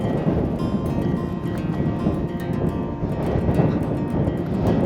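Strong outdoor wind during an October grouse-dog training camp, roaring steadily and buffeting close to the microphone for the whole stretch, with no voices.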